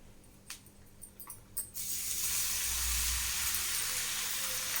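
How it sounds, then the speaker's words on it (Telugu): Coarsely crushed garlic hits hot oil in a pan while making tomato pickle, bursting into a loud, bright sizzle after a few soft clinks and taps, then holding a steady hiss to the end. "ఇంకొక నిమిషం పాటు ఫ్రై ఇట్లా వేగనిద్దామండి ఆయిల్లో"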